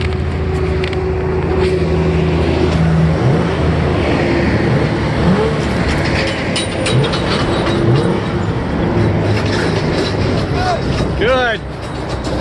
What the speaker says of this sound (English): Let's get an exhaust note on this thing.